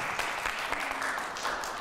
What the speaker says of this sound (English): Come on, we can clap for that.